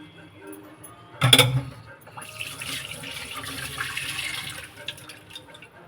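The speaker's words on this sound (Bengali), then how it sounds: "এই জলটাকে ঢেলে দেব।" Water poured from a vessel into a cooking dish, starting with a sharp clink and then a steady splashing pour of several seconds, close and moderately loud.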